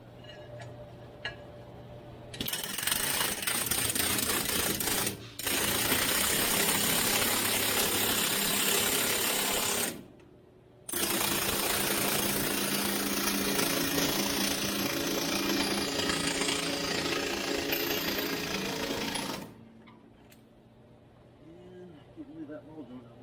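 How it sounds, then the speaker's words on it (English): Loud pneumatic hammering from an air hammer driving a pickle fork into a ball joint on a 1965 Chevrolet El Camino, in long rapid bursts with short pauses, then stopping, leaving quieter background noise. "or you can get an air hammer"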